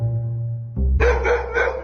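Dog barking in the stealth game Robbery Bob, a loud burst of game barks breaking in over a steady background tone, close and clear.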